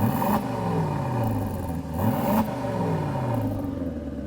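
An Aston Martin DB12 engine and exhaust in standard mode, revving close and loud with repeated rising and falling pitch sweeps and a steady rumbling drone throughout.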